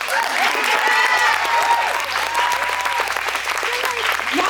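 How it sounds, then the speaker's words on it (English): Audience applause at a business talk on building a tribe, steady and sustained clapping with some whoops and crowd voices mixed in, under a low background hum, filling the whole stretch at even loudness. "clap like it's you"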